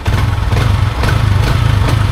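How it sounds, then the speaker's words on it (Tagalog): A Honda Click scooter engine runs at idle close by, a loud, even, throbbing putter with no talking. "Kinonsern ko sa kanila kung normal ba yung tunog ng makina bukod dun sa clutch damper na maingay"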